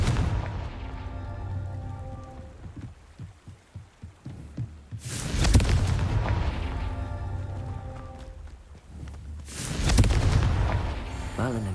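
Confringo explosion spell cast in the game Hogwarts Legacy: two loud broadband blasts a few seconds apart, each a booming burst that rolls off slowly over a steady low ambient bed.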